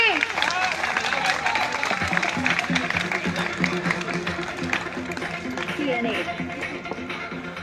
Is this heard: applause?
yes